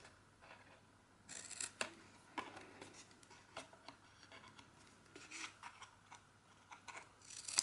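Scissors cutting paper to make a small Kinder egg book, with faint, close snips and rustles in irregular bursts over a low steady hum, no one speaking.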